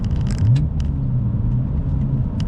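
Low engine rumble from a manual car on the road, with a short rising rev blip as the driver rev-matches a downshift, the drone then settling and holding steady.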